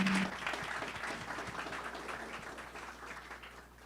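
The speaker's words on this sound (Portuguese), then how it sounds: "Uma salva de palmas." An audience applauds at a corporate management workshop as a CEO is called to the front, steady clapping from many hands that holds for several seconds and slowly thins out.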